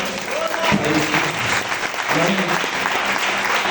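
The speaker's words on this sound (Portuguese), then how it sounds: "Dê uma salva de palmas." A church congregation at the close of an evening service gives a loud round of applause, continuous clapping mixed with voices and cheering from the crowd.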